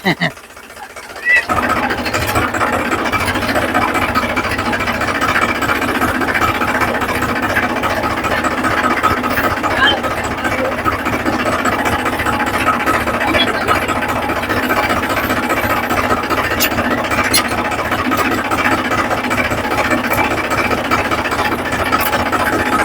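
A tractor engine runs steadily and loudly throughout on a farm, a continuous mechanical rumble with rattling, after a brief quieter start.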